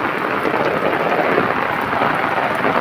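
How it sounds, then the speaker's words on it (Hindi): Dense, loud rain roars without pause during a flood in Cormons, Italy, a thick wash of noise with a low rumble and no talking. "बारिश इतनी है कि खड़ा नहीं हुआ जा रहा"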